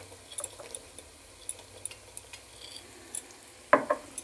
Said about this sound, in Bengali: এবার আমি দিয়ে দিচ্ছি কাজু, কিছু কাজু দিয়ে দিলাম, কিছু কিশমিশ দিয়ে দিচ্ছি।